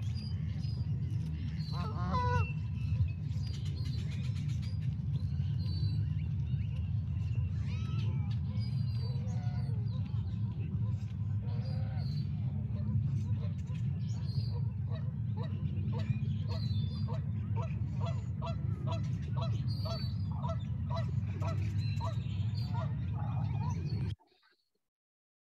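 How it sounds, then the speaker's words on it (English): Geese honking at a community fishing pond, repeated calls over a steady low outdoor rumble, fairly close and continuous for about twenty-four seconds before cutting off. "You'll definitely hear the geese."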